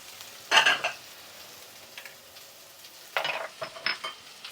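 Onions, carrots and celery dropping into a hot pan for braised beef short ribs, with two bursts of loud sizzling and stirring scrapes, close up and fading between bursts.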